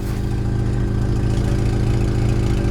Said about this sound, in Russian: Ну, выхлоп даже такой нормальненький.